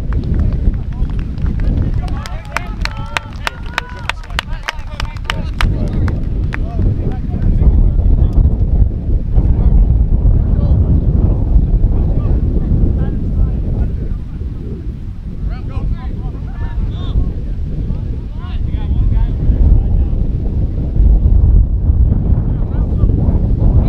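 Strong gusts of wind, around 20 to 25 knots, buffet the microphone at a youth under-17 rugby match, making a loud, constant rumbling roar with faint voices and clicks underneath.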